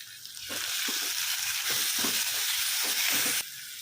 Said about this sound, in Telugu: సో మనకి గుజ్జుగా అయ్యేంత వరకు ఫ్రై చేసేసుకుందాం. హై ఫ్లేమ్లోనే ప్రిపేర్ చేస్తున్నామండి.